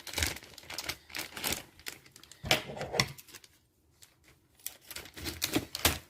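A plastic pack of dollar-store zip ties is torn open near the mic, giving bursts of crinkling, rustling and snapping with one short pause partway through.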